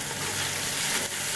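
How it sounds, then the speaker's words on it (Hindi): A soft, brief sizzle of ginger garlic paste frying in a hot pan, a quiet crackling hiss with no talking. "मैं ये अदरक लहसुन का पेस्ट डालूंगी"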